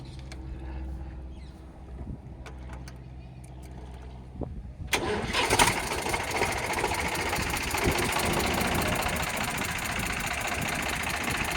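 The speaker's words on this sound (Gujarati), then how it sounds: "તમે જોઈ શકો છો, એન્જિન સ્ટાર્ટ કરી દીધું છે આપણે." An Eicher tractor's diesel engine cranks and catches about halfway through, then settles into a loud, steady, rattling idle close by; quieter background sounds precede the start.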